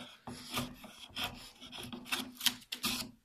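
Close, scraping strokes of a chisel trimming the edges of a wooden spoon repeat in quick, irregular bursts with no voice present.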